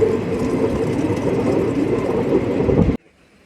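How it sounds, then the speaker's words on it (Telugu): Passenger train rumbling along near Vetapalem, a steady loud rolling roar with wheel clatter for about three seconds, then cutting off abruptly to near silence. "మన ట్రైన్ అయితేనండి వేటపాలెం అయితే వచ్చేసింది."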